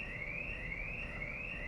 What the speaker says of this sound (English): Sorry about that alarm, that's kind of disturbed the video.